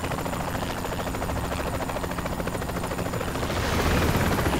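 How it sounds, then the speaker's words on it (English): Helicopters fly in during a video game, a steady broadband rotor drone with rapid blade chop that swells louder toward the end, heard alone without voices. "I'm seeing helicopters fly in."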